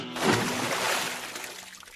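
A mobile phone thrown into a river hits the water with a single soft splash, then the sound fades into faint sloshing and trickling, with no voices.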